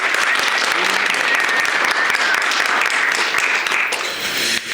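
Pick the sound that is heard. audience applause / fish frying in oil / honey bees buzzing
audience applause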